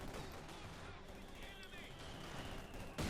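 Mortar shells fire and land in Company of Heroes 2, with faint, distant thuds and battlefield rumble under a constant low wash of game noise, and a slightly louder hit near the end.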